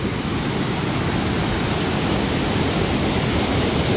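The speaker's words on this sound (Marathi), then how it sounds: "तुम्ही बघू शकता इथला वॉटरफॉल काय जबरदस्त आहे" Monsoon waterfall at Gupta Bhimashankar, a dense, steady roar of rushing water with no breaks, loud and close, with no voices.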